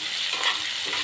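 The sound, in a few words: onions frying in oil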